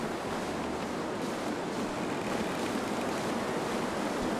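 Cold winter wind in The Long Dark blows in a constant, dense roar, loud and unbroken throughout with no voices.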